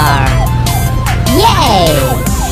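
A cartoon police car siren sounds with a rising and falling electronic wail over steady background music, mixed with cheerful children's-show voices, loud and close throughout.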